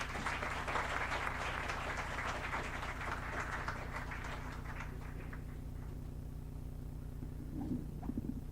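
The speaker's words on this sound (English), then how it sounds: "I request, sir, a round of applause for sir," Audience applause at a moot court prize distribution ceremony, a full round of clapping for the judge that rolls steadily for several seconds, then thins and fades out into a quiet room hum.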